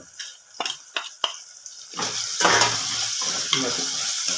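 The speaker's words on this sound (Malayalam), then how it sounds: "തക്കാളി നല്ല രീതിയിൽ വഴറ്റി കൊടുക്കുക" Tomatoes with turmeric sizzle and are stirred in a hot pan, with a few sharp scrapes at first, then a steady frying hiss that continues close up.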